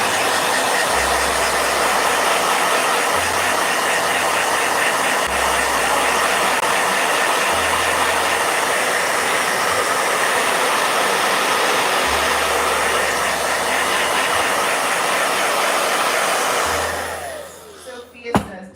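A blow dryer runs continuously with a steady loud whoosh and motor hum for most of the clip, then switches off near the end, leaving brief quiet.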